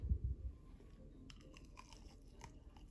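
A bite into hard, pepper-crusted candied bacon made in a Ninja Foodi XL Grill air fryer gives a few close, crisp crunches followed by quiet chewing, with no talking.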